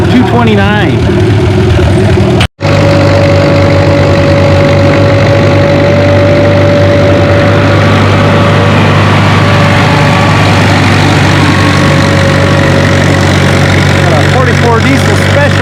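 A diesel pulling tractor drags a 6,000-pound sled at a fall tractor pull, its engine droning loud and steady with a sustained whine, under an announcer's voice and a brief cutout early on.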